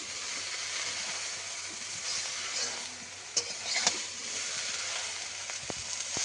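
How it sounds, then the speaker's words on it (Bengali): Salted gourd leaves are stirred in a pan as they give off water, making a soft, steady sizzle broken by a few sharp scrapes and taps of the utensil. "এইভাবে নেড়ে চেড়ে মেশাতে মেশাতে এটা মজে যাবে।"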